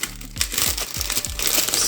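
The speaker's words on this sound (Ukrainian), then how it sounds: "Зараз я розпакую та ближче покажу вам ці гарні рукавички." The plastic packaging bag of a pack of latex gloves is unwrapped up close, giving a loud, continuous crinkling with sharp rustling bursts.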